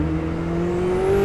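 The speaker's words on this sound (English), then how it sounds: "The engine, it's tractable even at low revs" A Koenigsegg Chimera hypercar with a 1600 bhp engine and manual gearbox hums at low revs on a public road, a smooth steady drone with its pitch rising slightly over about a second.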